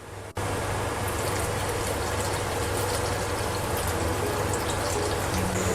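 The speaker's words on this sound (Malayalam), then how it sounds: "നമുക്കിനി ഇതിലോട്ട് 1 കപ്പ് വെള്ളം കൂടി ഒന്ന് ചേർത്ത് കൊടുക്കാം" A cup of water pours into a pan of simmering dry prawn curry, starting with a soft click and then running as a continuous, even splash and hiss of liquid close up.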